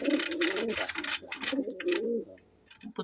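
A milk-white German postal pigeon coos repeatedly while courting a female, its low throaty calls close and fairly loud in a steady series before fading near the end.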